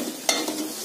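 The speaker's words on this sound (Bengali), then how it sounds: "আমি এখন মশলা দিয়ে সবজিগুলোকে ভেজে নেব।" Vegetables frying with salt, sugar and spices in a pan for a vegetarian biryani, with a single sharp stir or scrape early on over a steady soft sizzle.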